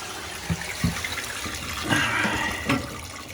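Water drains out of a Navien boiler through an opened relief valve, a steady rushing gush with gurgles and a few knocks and clicks, fairly close and alone.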